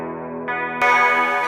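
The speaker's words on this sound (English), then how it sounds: "Got a nice reverb on there, some really nice effects on there." An electric guitar played through a reverb effect preset rings out in sustained chords, growing louder and brighter midway, with no talking.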